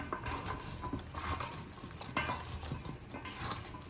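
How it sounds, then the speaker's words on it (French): Potatoes and carrots with salt and olive oil are stirred in a pot or bowl, giving a faint, close series of soft scrapes and clinks, with a light sizzle underneath. "On va mélanger"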